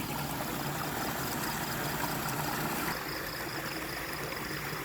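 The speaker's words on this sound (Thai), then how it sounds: "ดูน้ำไหลแรงแรงท่านผู้ชมแรงมากเลยไหลลงไปโน่นนะ" A strong, fast-flowing stream runs with a steady broadband rush of water, fairly faint and constant, and no one speaks.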